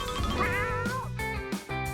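Kitten meowing close by in a home, with a few short cries breaking through steady music and other background sound.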